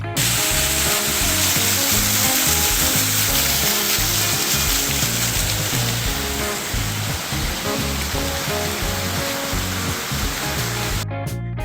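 A waterfall near Fayetteville, West Virginia, rushes in a loud, continuous, dense roar of falling and splashing water, steady from start to finish with no voices.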